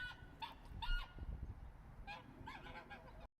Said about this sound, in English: The other geese are regular geese, and they are the white ones.